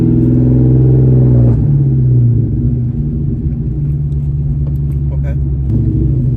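A 2003 Mustang GT engine with a ram air intake idles close by with a smooth, steady low rumble, settling slightly lower partway through, voices faintly present.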